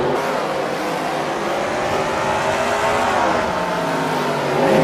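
Race cars roaring in a NASCAR-style video game race at Spa-Francorchamps, engines droning loud and continuous with rising and falling revs as cars battle through the S-curves.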